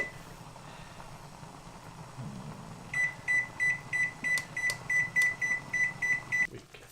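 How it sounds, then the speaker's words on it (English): A kitchen timer set while chicken soup simmers beeps in a steady series of about a dozen sharp, evenly spaced pulses over a faint room hum, then stops abruptly. "Timer."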